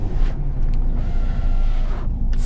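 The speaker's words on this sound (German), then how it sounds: "starten wir mal den Motor. Schön sonor, klingt gut, macht Spaß" The 2-litre BMW four-cylinder twin-turbo engine of a 2018 MINI John Cooper Works Cabrio runs at a steady idle, a deep, loud, continuous rumble heard close up with some wind noise.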